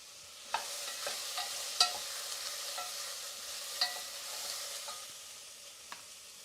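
Onions fry in a home kitchen pan, giving a soft, steady sizzle punctuated by occasional light clicks and scrapes of a stirring utensil, all fairly quiet.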